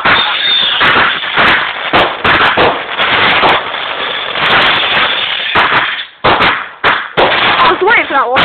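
Fireworks rockets burst in a dense, loud barrage of cracks and pops that run almost the whole time, with short gaps near the end and people talking underneath.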